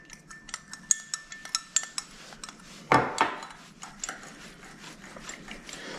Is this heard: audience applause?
no